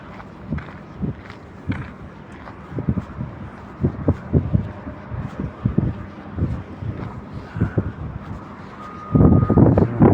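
Intermittent beeping from a reversing dump truck at a construction site, a series of short tones over rumbling and footsteps, ending in a burst of gusty noise.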